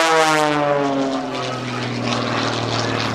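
Propeller aerobatic airplane flown by Patty Wagstaff at the 2008 NAS Oceana airshow, a loud steady engine drone with a strong buzzing whine that shifts pitch slightly as it maneuvers, continuous throughout.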